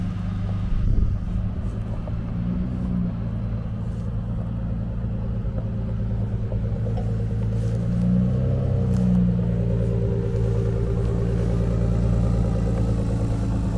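A Ford Raptor truck crawls along at about 1 mph in four-wheel-drive high with the throttle left alone, giving off a low, steady engine rumble that swells slightly now and then.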